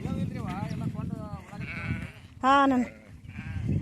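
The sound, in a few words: sheep bleating in a field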